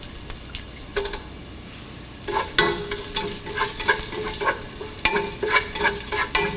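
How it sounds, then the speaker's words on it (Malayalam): Dried red chillies sautéing in oil in a pan, loud close sizzling with bursts of stirring and spatula scrapes, busier and louder in the second half. "വറ്റൽമുളകിട്ട് വഴറ്റുക."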